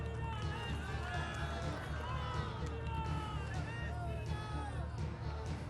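An audience at a program at Ram ki Paidi in Ayodhya claps and cheers loudly. The sound is a dense, continuous roar of crowd noise mixed with voices that lasts throughout.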